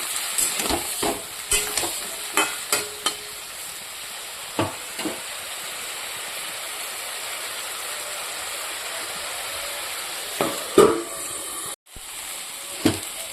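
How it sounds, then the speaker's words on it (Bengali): Potatoes and vegetable stems stir-fried with spices in a pan, a steady hissing sizzle broken by a series of sharp spatula scrapes and knocks against the metal, clustered early and late, no talk. "এবার ভালো করে আলুর সঙ্গে ডাটার সঙ্গে কষিয়ে দেবো"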